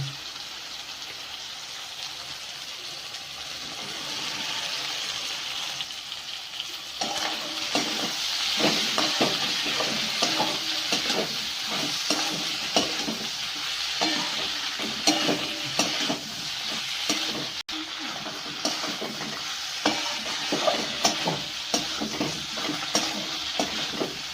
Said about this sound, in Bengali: এবার আমি এর মধ্যে ভেজে রাখা ঢ্যাঁড়সটা দিয়ে দিচ্ছি